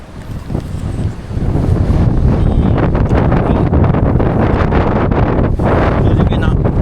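Strong outdoor wind buffets the microphone in continuous heavy rumbling gusts, loud and roaring throughout, with faint voices beneath.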